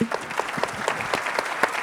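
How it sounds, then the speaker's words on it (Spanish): Audience applause for a speaker at a panel discussion on ventilated facades, a dense, steady patter of clapping from a room-sized crowd, fairly close, with no talk over it. "Un aplauso para Andrés Pérez"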